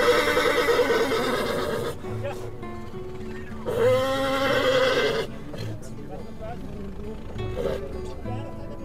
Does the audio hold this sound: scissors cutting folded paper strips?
no